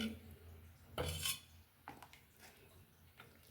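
A metal ladle clinks against a pot and plate a few times, with soft scraping as horse gram sambar is served over ragi mudde in a quiet kitchen.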